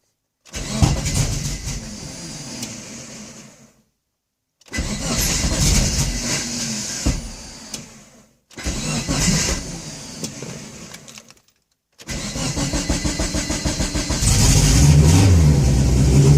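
A car engine on E85 fuel cranks with a struggling starter in four separate bursts separated by silences, then on the last attempt it catches and runs with a rising, uneven roar.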